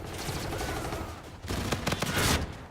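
Rapid weapon fire in Call of Duty: Infinite Warfare, a VPR Yokai gun, with bursts of quick shots over a busy game backdrop, getting louder toward the end, fairly close and without talk.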